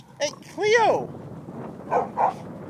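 A playful dog gives a short yip, then a rising whining whimper, followed by two softer yips, all fairly close and quiet.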